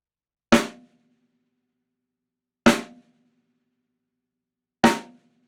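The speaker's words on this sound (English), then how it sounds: "I have the drum tuned very high for a center stroke" Three sharp, high-pitched center strokes on a very high-tuned snare drum, evenly spaced about two seconds apart, each short and dry with a quick decay and little ring.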